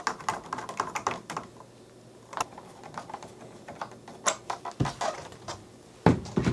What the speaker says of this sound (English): we'll do that using a hex driver